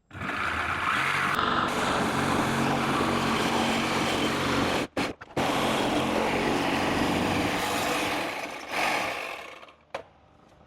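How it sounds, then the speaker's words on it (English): A reciprocating saw cuts through the steel transmission cross member of a Datsun, a loud continuous buzzing drone with brief breaks near the middle and near the end. "let's see if I can sawzall the transmission cross member"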